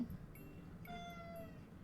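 A hungry pet cat meows twice in quick succession, close and clear, the second call longer and rising, with no talking over it.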